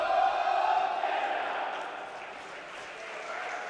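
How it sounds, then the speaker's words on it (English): Cheering from the Canadian team huddle at the wheelchair rugby grand final of the Paralympic qualifying tournament in Wellington, a distant crowd roar that is strongest at the start and then fades into a steady murmur. "the cheering you could hear there was actually from the Canadian huddle"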